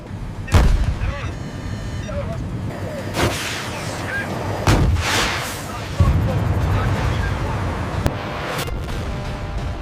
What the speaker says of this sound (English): The missile strike resulted in the total annihilation of the target, creating a wide debris field